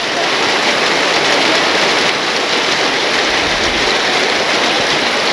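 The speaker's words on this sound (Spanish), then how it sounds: "hay granizo ahora" Hail falls in a dense, continuous hiss and patter, loud and unbroken from start to finish, like heavy rain on a surface.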